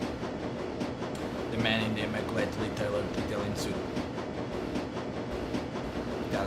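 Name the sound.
train rumbling in the video game Shadowrun: Dragonfall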